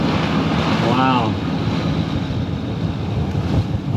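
Ocean waves and gusting wind surround a sailboat riding large swells, a continuous loud rushing wash, with a brief voice near the beginning.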